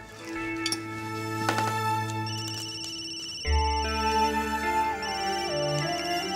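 A mobile phone ringing indoors with a melodic, chiming ringtone that loops its bright tones loudly for several seconds, with a faint clink near the start.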